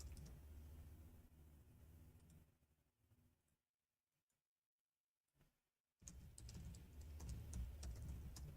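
Computer keyboard typing, done while renaming folders, comes as rapid key clicks in two bursts with a silent pause between them.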